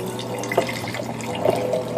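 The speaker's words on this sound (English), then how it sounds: "then we're just going to pour in our liquid here" Rejuvelac liquid being poured into two clean jars: a faint, steady trickle and gurgle with a couple of brief splashy bursts, heard alone and close by.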